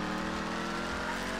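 A car's engine revs hard for a turbo launch in GTA 5 Online, a steady, dense motor roar held at high RPM for a brief moment with no talk over it.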